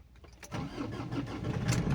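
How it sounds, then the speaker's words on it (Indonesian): Ford Everest TDCI diesel engine cranks and starts, catching after a brief starter whir and settling into a steady, close diesel rumble. "baru kita akan nyalakan"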